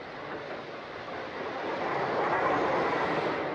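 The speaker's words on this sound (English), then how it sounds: "There's the North Briton coming in now." The North Briton train pulls into York station with a broad, steady rumble that swells slightly as it draws nearer. No other sounds stand out above the continuous roar.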